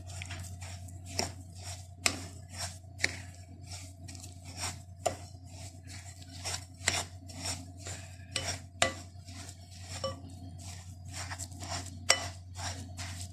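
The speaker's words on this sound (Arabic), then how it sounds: "وهنخلط بقى المكونات مع بعض." Basbousa batter with ghee and yogurt is stirred in a bowl, giving a steady run of scraping, tapping strokes against the bowl at a close, moderate level with no talk.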